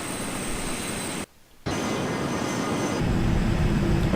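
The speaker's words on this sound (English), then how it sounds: "This Learjet is quite a fast aircraft." Learjet engine drone in the flight game Air Hauler, a steady broadband jet roar with a brief dropout near the middle before the sound returns, growing slightly louder toward the end.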